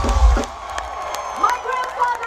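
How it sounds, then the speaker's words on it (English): At a rock concert, a man claps his hands while the crowd applauds and cheers. Loud scattered claps and whoops ring out around an amplified voice speaking over them. "you see this man standing up here clapping his hands"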